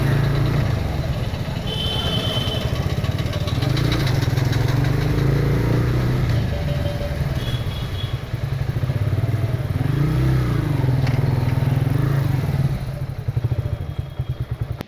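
A Bajaj Freedom 125 CNG motorcycle engine runs steadily at idle, loud and close, with a smooth even drone and no knocking, continuous throughout.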